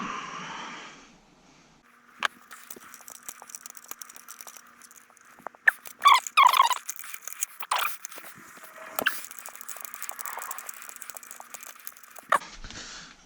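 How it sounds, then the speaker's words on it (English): A 4mm Allen key spinning out the tail bolts of a 2017 Ducati 959 Panigale motorcycle, heard as close, crisp metallic clicks and ratcheting taps in short bursts, with a brief hiss at the start. "You can actually just take a 4mm Allen key and go through these holes here."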